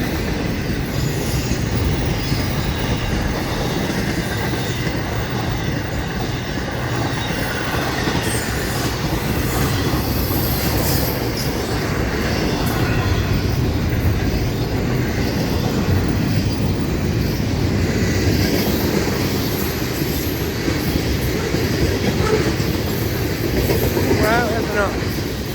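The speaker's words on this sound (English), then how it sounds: "Because this train here is cooking right through town." A freight train rumbles steadily through downtown Bunnell, with continuous loud wheel and rail noise, faint squeals and clatter sustained for the whole stretch.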